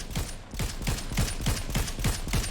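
Assault rifle fire in Fortnite Zero Build, a steady burst of evenly spaced shots, about eight in under three seconds, loud and close with no talking.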